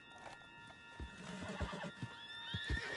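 A horse neighs and whinnies in Red Dead Redemption 2, with clip-clop hoof sounds and a steady hum of game ambience, loud and close throughout.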